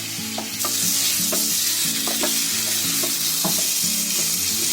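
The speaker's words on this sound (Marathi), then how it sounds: "आता ही चांगली मसाल्यामध्ये अशी थोडी फ्राय करून घ्यायची, ढवळून घ्यायची." Potatoes fry in masala for jeera aloo under a loud continuous sizzle, with a utensil stirring and scraping the pan at a steady, repeating rhythm.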